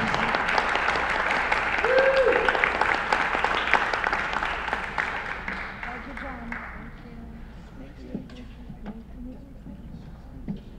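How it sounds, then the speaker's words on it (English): Audience applause for a panel at a live-streamed discussion event on defying the Nazis and the refugee crisis, steady clapping that swells then gradually fades and thins out toward the end. "let's give one more round of applause to all of our panelists and to all of us"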